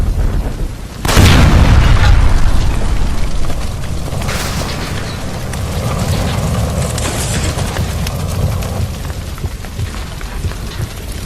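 Gas line explosion in L.A. Noire at an electroplating plant, a sudden loud close blast after a second of quiet, followed by a long roaring, crackling rumble of fire and debris.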